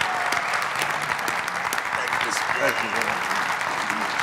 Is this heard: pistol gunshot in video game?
no